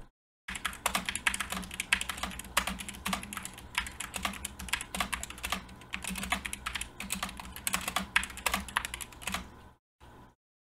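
Rapid typing on a computer keyboard, captured through a FIFINE USB microphone, clatters in continuous close, bright keystrokes for about nine seconds, then stops briefly before a last short burst.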